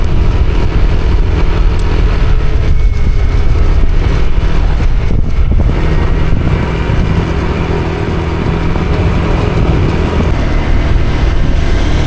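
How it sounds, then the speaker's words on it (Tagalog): New motorcycle being ridden on an open road in strong wind, with a steady engine drone and heavy wind rumble running continuously throughout, loud and close, with no talking. "Kasi may dinadrive tayong bagong motor ngayon."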